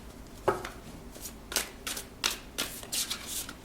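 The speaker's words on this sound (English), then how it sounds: "I'm gonna get just a couple more cards here for you from the Spiritual AF deck." Tarot or oracle cards from a Spiritual AF deck being shuffled by hand in quiet, with a series of crisp riffling bursts and soft card slaps spaced irregularly, close and fairly soft, no talking.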